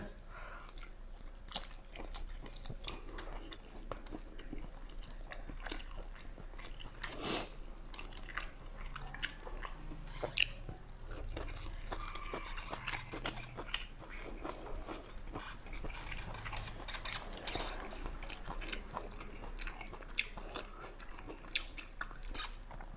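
Faint, close crunching and chewing of crispy fried mackerel, its bones fried until brittle, runs as soft irregular bites over low background noise, with occasional talk.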